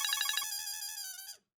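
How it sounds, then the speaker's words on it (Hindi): A phone ringtone for an incoming call plays alone, a bright electronic melody that opens with a few quick pulsing notes, then holds sustained tones before cutting off abruptly. "लो, उसी का फोन आ गया।"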